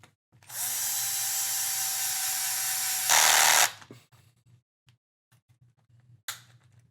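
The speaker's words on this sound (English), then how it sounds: "we will go ahead and screw this in" A power driver runs screws in during a FastEddy Bearings DR10 bearing build: one loud, sustained whine of about three seconds rising in pitch as it seats, then quiet clicks and a brief second burst.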